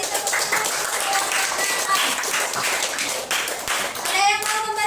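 Students in a classroom clapping after a classmate's presentation, a lively, fairly loud burst of many hands that runs steadily and thins near the end, with children's voices mixed in.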